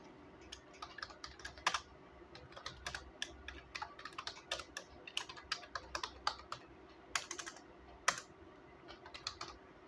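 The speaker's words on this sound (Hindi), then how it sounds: "अभी अगर मुझे यहाँ पे कुछ टाइप करना है या कुछ भी मुझे लिखना है तो वो मैं यहाँ पे लिख सकती हूँ" Someone types on a computer keyboard in a Linux text editor, a quick irregular patter of close key clicks with a few louder strokes and a faint steady hum underneath.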